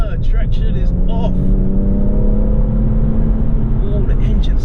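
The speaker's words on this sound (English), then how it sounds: "the engine sounds so good" With traction control off, a BMW M140i Shadow Edition accelerates hard, engine note climbing steadily from a low growl to a higher drone inside the cabin, with brief speech over it.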